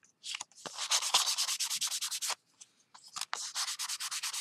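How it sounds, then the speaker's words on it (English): Hand sanding with a sanding sponge on a craft piece, a close, brisk series of rapid back-and-forth scratchy strokes in two bursts separated by a short pause. "So just keep sanding for a second and checking."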